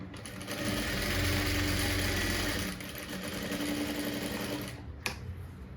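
A sewing machine runs close up while stitching darts on a blouse front, a fast steady whirring chatter that eases for a moment partway through and ends in a sharp click, with no talking.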